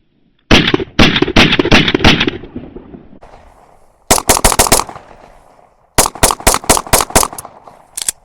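Handgun fitted with an Apex trigger test-fired dry to check cycling: rapid bursts of loud, sharp shots in three quick strings, close by, with short pauses between.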